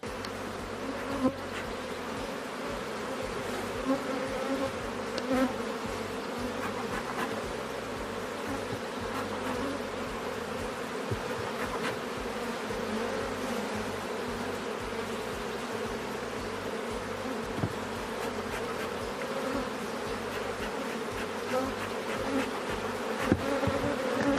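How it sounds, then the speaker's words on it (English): A dense, continuous hum of many honey bees buzzing close by around a hive, steady throughout with occasional louder passes of individual insects. "he is going to smoke that a little bit more, get all the bees down in the box"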